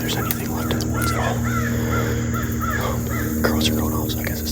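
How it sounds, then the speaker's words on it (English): Crows caw in the woods of North Carolina public land during early season, a series of harsh calls at moderate distance with soft talking and a steady low hum underneath. "Crows are going off"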